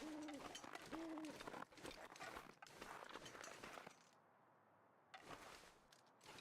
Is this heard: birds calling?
yes